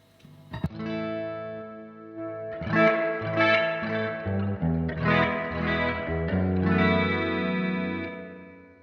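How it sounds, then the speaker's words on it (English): Electric guitar chords through a Roland JC-120 amp ring out through heavy, washy reverb, each strum trailing into a long shimmering tail with no one speaking. "And the reverb is actually quite loud."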